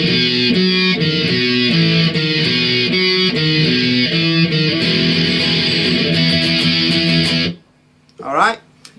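Electric guitar playing a verse riff, a loud, steady run of distorted chords for about seven and a half seconds that cuts off abruptly, followed by a brief burst of sound.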